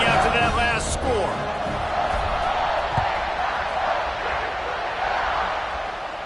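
A stadium crowd in a college football video game buzzes and roars as a dense, steady wash of noise, with a voice briefly over it at the start.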